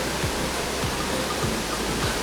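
Meenmutti waterfall in Wayanad heard from above during the rainy season, a steady, dense roar of rushing water filling the whole clip without change.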